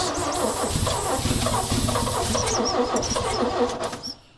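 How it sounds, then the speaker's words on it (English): A 1965 Chevy rollback truck engine fires and runs roughly on oil-fouled cylinders, a loud close rumble with uneven chugging pulses that holds steady before cutting off near the end. "it's probably going to fire until it burns the oil out of them cylinders"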